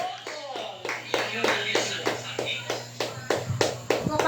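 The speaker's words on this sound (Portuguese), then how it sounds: "E as palmas louvam o nome de Jesus." Rhythmic, in-time hand clapping by a church congregation, about three claps per second with a steady, close beat and voices faintly underneath.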